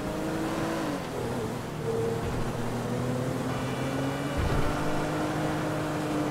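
A steady, droning boat engine hum runs throughout, with shifting pitch as it revs slightly, like a motorboat motor heard up close, in the video game Grand Theft Auto 5.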